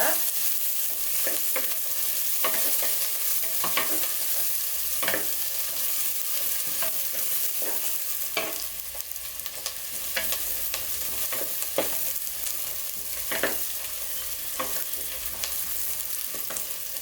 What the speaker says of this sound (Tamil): வெங்காயம் நல்லா வதங்கி வர்ற அளவுக்கு எண்ணெயில் வதக்கிக்கோங்க.